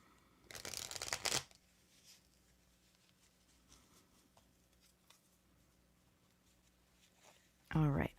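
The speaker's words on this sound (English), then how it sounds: "All right, I'm shuffling." Tarot cards being shuffled in a close, quiet ASMR-style setting: two short bursts of crisp riffling, one near the start and one at the very end, with faint handling rustles between.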